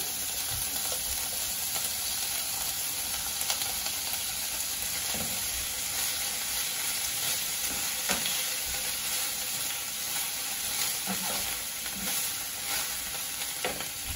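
Broccoli sizzling in a pan of frying red curry fried rice, a steady loud hiss with stirring scrapes and clatter throughout, no voices.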